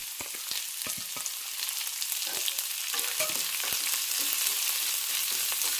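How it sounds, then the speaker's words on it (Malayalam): Onion, ginger, green chilli and curry leaves sauté in a pan of oil with carrots for flattened-rice poha upma, giving a steady close sizzle broken by frequent sharp clicks and scrapes of stirring. "സവാള നല്ല ട്രാൻസ്പെറൻ്റ് ആകുന്നവരെ വഴറ്റിയെടുക്കാം"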